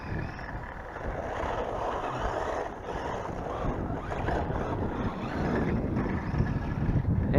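A WLtoys L323 1/10-scale two-wheel-drive RC short course truck runs off-road over ground with leftover snowbanks, a continuous rough rumble and whirring drone heard close with wind buffeting the microphone.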